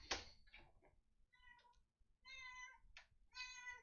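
A pet cat named Gatuna meows several times in short, clear, fairly close calls with brief pauses between them, in a quiet room with a soft knock near the start.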